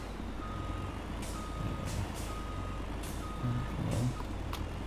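A milk truck backs into a drive pit at a grain elevator, its reversing alarm beeping steadily over a continuous diesel engine rumble, with a couple of short air-brake hisses near the end.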